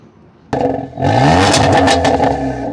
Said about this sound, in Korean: 시동 한 번만 켜주시고요